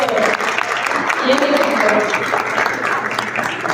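An audience at an educational workshop applauds a team's presentation, a moderate round of clapping with voices talking over it.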